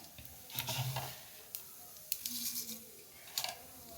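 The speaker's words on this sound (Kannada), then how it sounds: "ಸಾಸಿವೆ ಎಣ್ಣೆ ಕಾದಿದೆ ಸಾಸಿವೆ ಹಾಕ್ಕೊತಾ ಇದ್ದೀನಿ" Mustard seeds sputter in hot oil, a faint close crackle with a few sharp popping bursts and clicks at uneven intervals.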